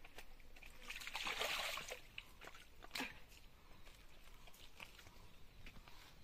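A mountain stream flows between rocks, a faint, distant trickle and soft burble with a few brief splashes and knocks, heard alone without any voices.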